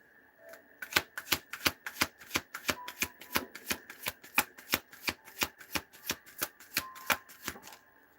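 A deck of tarot cards is bridge-shuffled over and over, giving crisp riffling bursts in a steady, fast rhythm, close and clear with a faint hum behind.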